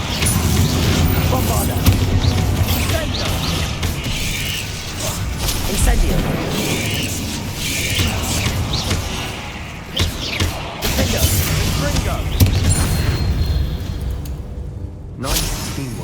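Spell explosions from Bombarda casts in the video game Hogwarts Legacy, with a troll fight, as repeated booms and thuds in dense, loud, continuous combat noise with whooshes and mechanical clatter, and voices calling out over the mix.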